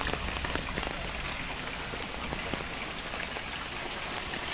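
Steady morning rain pattering on surfaces around a house, a dense, even hiss of drops that holds at constant loudness throughout with no voices.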